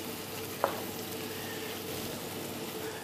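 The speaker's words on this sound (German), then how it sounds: "Den Lauch, wie gesagt, einfach anschwitzen und etwas warten, bis er etwas weicher geworden ist." Chopped leek sautéing in melted butter in a pan, a steady soft sizzle throughout with one brief clack near the start, no voices.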